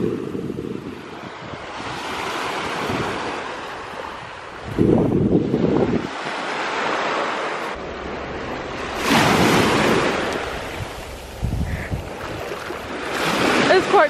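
Sea waves wash against the shore in Suffolk while someone wades in the water. Surges swell and recede in uneven bursts, mixed with gusty wind buffeting the microphone and brief splashes close by.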